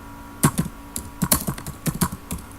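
Irregular keystrokes on a computer keyboard as DB2 command-line commands are entered, close and clear with no voices, in quick bursts and short pauses.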